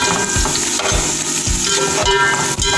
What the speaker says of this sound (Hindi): प्याज हमारा फ्राई होने वाला है